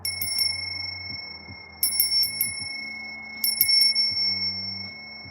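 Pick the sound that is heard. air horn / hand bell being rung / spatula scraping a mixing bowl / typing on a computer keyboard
hand bell being rung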